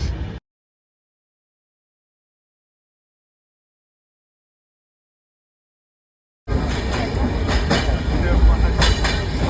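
A passenger train on the Mumbai to Howrah route rumbles along after a short cut of silence, a loud, steady rolling roar with clattering wheel noise from inside the coach.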